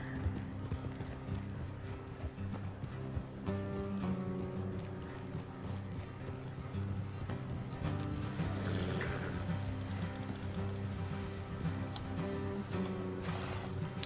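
Horse hooves clip-clop at a steady walking pace in Red Dead Redemption 2, low in level, with creaking tack and faint ambient game sounds around them. No one speaks.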